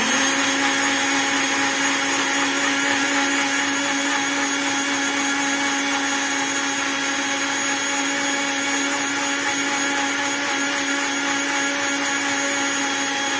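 A blender whirs steadily while making a chikoo shake with sugar and fresh cream. Its motor drone stays loud, even and unbroken throughout, with no talk over it.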